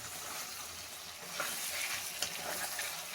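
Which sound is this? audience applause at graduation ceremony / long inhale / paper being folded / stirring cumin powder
stirring cumin powder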